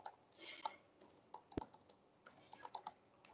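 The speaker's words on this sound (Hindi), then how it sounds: "अब इस पे कुछ कंटेंट लिखता हूँ मैं" Fingers type on a computer keyboard, writing content into a Python file: a quiet, irregular run of close key clicks with one sharper tap midway.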